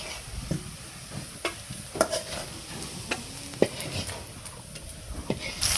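Large fish frying in a pan for a tomato curry, steady sizzling with frequent clinks and scrapes of a spatula stirring and turning, close and moderately loud.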